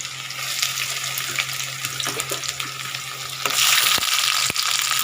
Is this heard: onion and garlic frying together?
yes